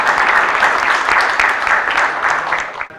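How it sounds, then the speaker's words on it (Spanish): Audience applause at an international seminar on digital identification held by Honduras's national registry, a steady, dense clapping throughout that tapers off at the very end. "Fuerte aplauso para él."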